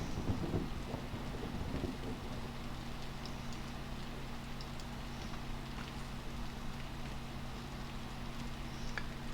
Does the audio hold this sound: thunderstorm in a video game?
yes